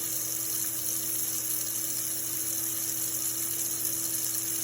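A tap runs full blast into a sink drain that was just cleared after being slow, giving a steady, unbroken rushing hiss with a constant hum underneath, close and with no talking.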